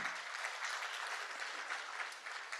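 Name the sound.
audience clapping for an award recipient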